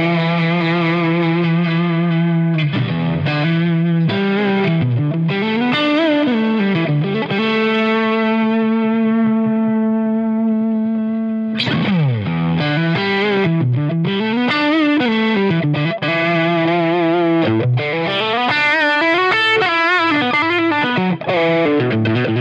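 A Fender American Vintage '62 Telecaster Custom electric guitar plays through overdrive, delay and reverb, ringing out loud, distorted phrases with sustained chords, bending notes and echoing tails over about twenty seconds, unaccompanied.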